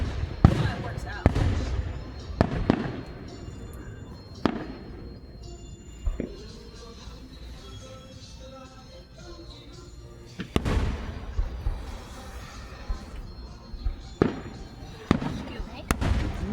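Fireworks explode at a public display, a series of irregular booms and sharp cracks, some near and loud, others more distant, with crackling trails between bursts and people talking nearby.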